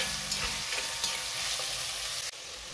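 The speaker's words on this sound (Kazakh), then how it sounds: "Қызып тұрған майға пиязды қуырамыз." Chopped onions fry in hot oil with a dense, steady sizzle heard up close, punctuated by light stirring scrapes throughout.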